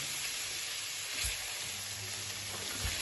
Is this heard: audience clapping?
no